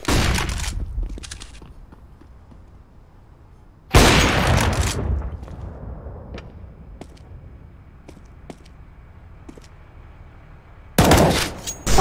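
A flashbang grenade thrown in a first-person shooter game: a sharp loud burst opens, then a second heavy blast a few seconds later, followed by faint footsteps and small clicks, with another loud burst near the end.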